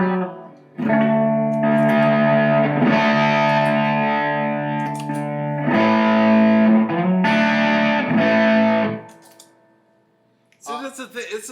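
Electric guitar played through a Keeley Nobel Screamer overdrive pedal, sustained distorted chords ringing for several seconds, cutting out and restarting twice, then fading before a brief spoken moment at the end.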